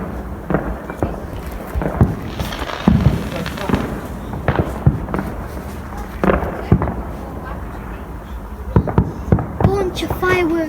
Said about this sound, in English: You'll see a bunch of fireworks.